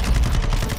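Rapid automatic fire from a SAKIN machine gun in Warzone 2, a loud, dense continuous burst of close shots throughout.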